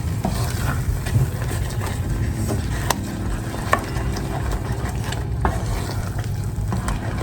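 Mashed potatoes with melting cream cheese get stirred in a pot, a dense continuous low churning rumble with faint soft scrapes, no voices.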